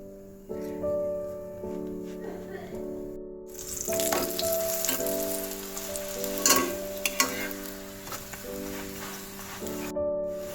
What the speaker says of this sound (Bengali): এবারে আমি ঘি দিয়ে ভেজে নেবো